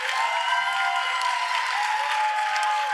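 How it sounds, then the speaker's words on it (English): Pageant audience at the Miss Arizona for America finals applauding the contestants, a steady, even roar of clapping from a large crowd that holds level for the whole stretch. "Give them a big round of applause"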